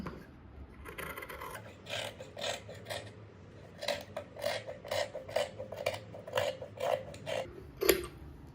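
Scissors cut cloth for a sleeve by hand in a close, steady series of rasping snips, each stroke a short scrape repeating at a regular pace.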